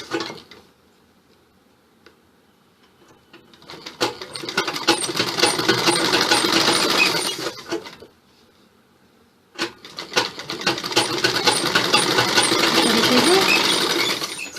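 Sewing machine stitching an A-line suit in two bursts of rapid, loud mechanical whirring, each a few seconds long and separated by pauses with no voice.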